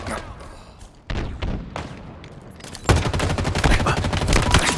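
Gunfire in a Halo Infinite multiplayer match, with a sparse early shot or two giving way to loud sustained rapid automatic bursts and thuds, close and dense, no talking.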